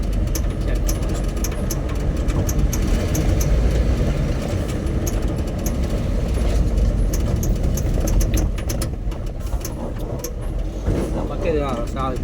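A loaded lorry drives along a forest road past a forest department checkpoint in Andhra Pradesh, its engine giving a continuous heavy, low rumble with road noise, loud and close, while someone talks over it.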